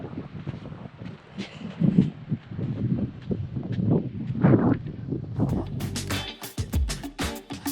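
Wind gusts buffet the microphone at a beach camp, producing a rough, fluctuating low roar with rustling and flapping, growing choppier toward the end.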